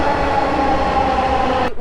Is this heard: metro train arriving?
yes